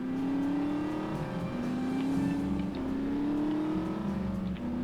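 A car drives in The Saboteur, its engine humming steadily at a close, loud, sustained level and rising and falling gently as if through gear changes or acceleration, with no voices over it.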